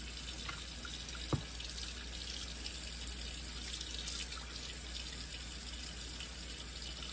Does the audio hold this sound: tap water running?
yes